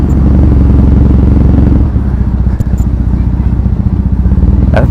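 A scooter or motorcycle engine rumbles loudly and continuously on a ride through Tokyo city streets. The low, steady throb shifts slightly in pitch partway through, and a voice can be heard under it.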